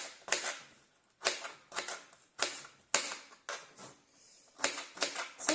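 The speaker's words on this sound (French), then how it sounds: "je vais juste brièvement finir de couper les quelques petits morceaux qui me restent" Kitchen knife chopping bell peppers on a cutting board: quick close knocks in short irregular bursts, about a dozen strokes with brief pauses between.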